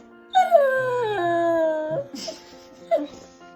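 Gainz, a 115-pound muscular dog, lets out a long drawn, falling howl that breaks into short whimpers and whines close by, with no talking.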